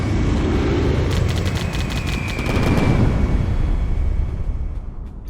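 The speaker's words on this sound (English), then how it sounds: "Let's call it a bombing run on this idiot." Bombing run in a war video game: dense rattling gunfire bursts with rumbling explosions and a steady engine drone, loud and continuous throughout without talking.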